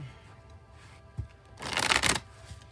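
A tarot card deck being shuffled: a brief tap, then about half a second of loud, close riffling cards, alone without talk.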